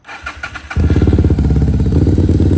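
A 2016 Stallions Buccaneer 250i V-twin motorcycle engine cranks briefly, then catches and settles into a loud, lumpy, throbbing idle close by, steady for the rest of the clip.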